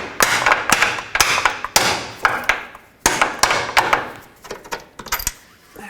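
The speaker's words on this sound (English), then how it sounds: "Drive the bolt out." Repeated hammer blows drive a bolt out of the front lower rearward control arm on a 2004–2008 Acura TL, sharp metallic strikes in irregular bursts of two and three, close and loud.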